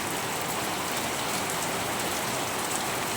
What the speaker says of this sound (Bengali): টিনের ঘরের চালের বৃষ্টির শব্দ, ঝুমঝুম।